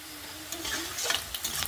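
Chopped onions frying in a pan for a pointed gourd mash, with dried red chilli and nigella seeds, giving a soft, steady sizzle close by and a few brief stirring scrapes, no talk.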